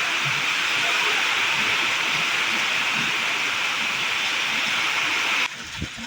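Steady broadband hiss of rain falling and water running across a house terrace, loud and continuous, then dropping off abruptly near the end.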